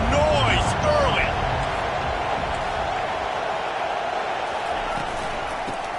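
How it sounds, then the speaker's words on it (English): A stadium crowd at an NCAA college football game with Notre Dame roars loudly and steadily throughout, the cheering dense and continuous, with a brief announcer voice near the start. "This crowd bringing the energy and noise early."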